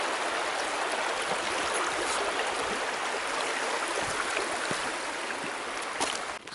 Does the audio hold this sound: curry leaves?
no